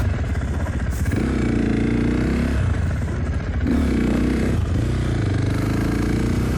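A motorcycle engine at the Oklahoma Motorsports Complex track sounds loud and close, idling and rising in pitch with several revs, the uneven, throbbing exhaust note filling the whole stretch without any speech.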